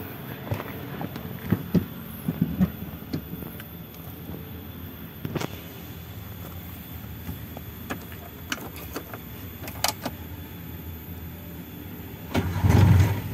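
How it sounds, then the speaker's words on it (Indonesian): A Toyota Starlet engine cranks and turns over, then settles into a low, steady idle, with a few clicks and shuffling sounds nearby. "Oke, sekarang kita hidupkan mesinnya."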